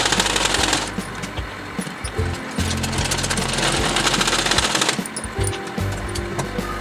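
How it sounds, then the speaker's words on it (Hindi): A sewing machine stitches tucks on a blouse, running in a fast, steady mechanical rattle with short pauses and restarts, close and loud throughout. "अब इस तरह से दूसरी टक्स लेंगे और इस तरह से सिलाई करेंगे पकड़ कर।"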